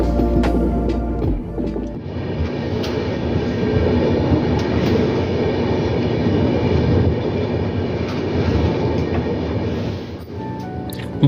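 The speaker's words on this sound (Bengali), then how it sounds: "নর্থ ইস্টের যে সমস্ত ট্রেনগুলো আলিপুরদুয়ার হয়ে যায়, সেই সব ট্রেনগুলোই এই সেবক স্টেশনের ওপর দিয়েই যায়।" A train rumbles steadily through Sevoke railway station on the North East line via Alipurduar, a loud, continuous roll of wheels and carriages with a clanking start and rhythmic clatter throughout, no talk.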